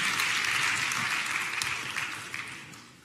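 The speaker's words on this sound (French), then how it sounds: "Guy, Faut applaudir aussi, hein?" Audience applause at an awards ceremony for business trophies in Troyes, France, a dense steady wash of clapping that slowly fades toward the end, with no voices over it.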